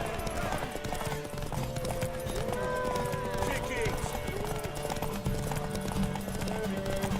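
Horse hooves clip-clop at a gallop in The Witcher 3, a steady rhythmic pounding over a busy game soundscape, with voices calling out over the running and a brief whinny.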